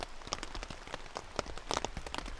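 Rain falls on a tent at a solo wild camp in the woods, a dense, steady patter of individual drops tapping the fabric nearby. Nothing else is heard.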